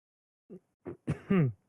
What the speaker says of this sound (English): give me a moment to clear my throat.